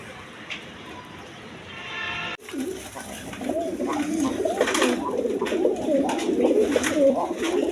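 A pair of high-quality Rajgolla pigeons on a breeding farm coo continuously in low rolling burbles after a sharp knock, close and fairly loud over steady background hiss.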